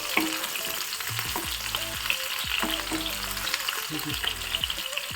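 Two green chillies fry in a pan with a steady, faint crackling sizzle and occasional light stirring. Low background music plays throughout.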